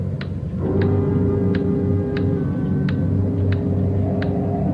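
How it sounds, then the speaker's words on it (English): A loud clock ticks steadily, about once every 0.7 seconds, in a windy room, with a low rumble running underneath and no talk. "Sure a loud clock."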